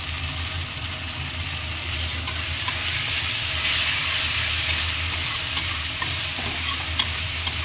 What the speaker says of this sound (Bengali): 5 মিনিট মতন আমি মশলাটা কষিয়ে নেব বন্ধুরা